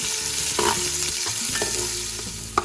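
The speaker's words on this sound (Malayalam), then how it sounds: "ഇനി നമുക്ക് ഇതെല്ലാം ഒന്ന് നല്ലോണം ഇളക്കി മിക്സ് ചെയ്യാം." Chopped onion frying in a pan for Thalassery meat rice, stirred with a spoon that scrapes and knocks against the pan several times over a continuous sizzle, no talking.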